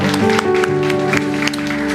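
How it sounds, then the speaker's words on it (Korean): A church congregation claps together in a steady, full burst of applause, with sustained musical tones from instruments or a keyboard ringing underneath throughout. "우리 하나님께 감사와 영광의 박수를 드리겠습니다"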